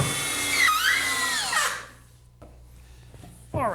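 Power drill driving screws to join halves of a wooden workbench leg: a loud rising and falling whine with the screw biting into wood for under two seconds, a lull of handling, then the drill starting again.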